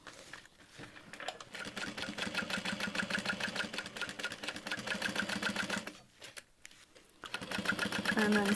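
Close, loud sewing machine stitching a handbag lining in a long continuous run, pausing briefly before the stitching resumes at full speed; no one speaks.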